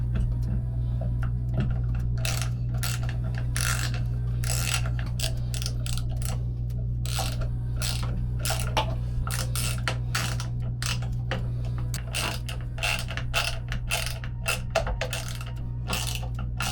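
A ratchet tightening motor mount screws on an old yacht, its quick clicking strokes repeating in uneven bursts over a steady low hum.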